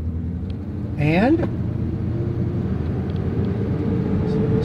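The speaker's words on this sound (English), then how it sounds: "Sounds like a big truck." Ford pickup truck engine runs with a low, steady rumble during a road test, a constant deep drone throughout, with a brief spoken word over it.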